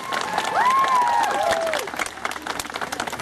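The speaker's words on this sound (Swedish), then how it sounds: "En stor applåd för våra duo-performance-vinnare!" A cosplay convention crowd at Närcon applauds prize winners of a duo performance, loud clapping and cheering with a bright whistle-like squeal over it before the clapping thins out.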